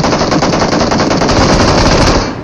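Rapid automatic gunfire in the PUBG video game, loud and continuous bursts of machine-gun fire filling the whole stretch, fading only at the very end.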